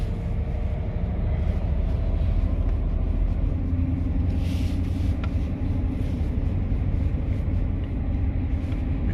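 A Mercedes S-Class W220 with an Airmatic-to-coilover strut conversion rolls gently around the block, a steady low road rumble and engine drone filling the interior throughout.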